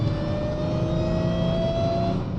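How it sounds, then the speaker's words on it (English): The supercharger of a Mercedes Kompressor engine emits a sustained, steady high-pitched whine over a low engine drone, heard from inside the closed cabin with no one speaking. "That is the number one most important thing to make a supercharger as loud as possible."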